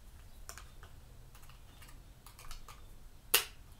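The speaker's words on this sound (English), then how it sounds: "what we do with the microphone is we plug it in to the back" A microphone plug going into the back of a small recorder, with a few quiet clicks and fumbling taps up close, then one sharp louder click near the end.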